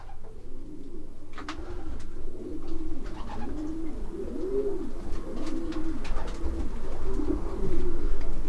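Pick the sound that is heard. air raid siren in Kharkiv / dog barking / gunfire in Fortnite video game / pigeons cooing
pigeons cooing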